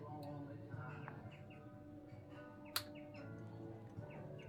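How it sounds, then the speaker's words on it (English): Birds chirping and tweeting in short bursts over a steady background murmur, with one sharp click partway through. "Here are the birds."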